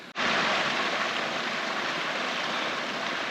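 Running water from a stream beside a Scottish hillside campsite rushes steadily as a loud, even broadband wash with no voices.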